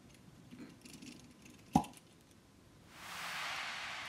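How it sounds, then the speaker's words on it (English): Cork eased out of a wine bottle, a single sharp pop about midway, then a soft airy hiss trailing off, otherwise quiet and close. "Then you will gently need to ease out the cork the rest of the way."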